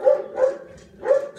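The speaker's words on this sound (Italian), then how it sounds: "Scusate se sentite abbaiare, ma il mio cane non può stare alla finestra aperta" A dog at an open window barks at people passing by: three sharp, loud, close barks at an even pace with short gaps, and nothing else heard.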